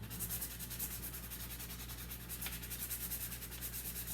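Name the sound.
scrubbing stuck-on food off a spatula while washing dishes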